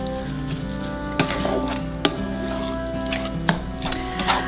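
Seasoned ground beef for tacos frying in a pan, a steady close sizzle with a few sharp clicks and scrapes of stirring or utensils against the pan, no talking.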